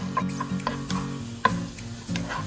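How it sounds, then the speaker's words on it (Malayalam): Red capsicum and chilli being stirred in a frying pan, with a soft steady sizzle under repeated scraping strokes of a utensil and one sharper knock against the pan; no talking. "എല്ലാം കൂടി നന്നായി മിക്സ് ചെയ്യാം."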